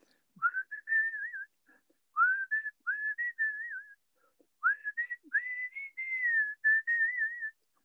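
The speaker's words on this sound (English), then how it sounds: "can you give us a quick blast of the whistle now?" A person whistles a lively melodic tune in several bursts with short pauses, clear and close, with no other sounds.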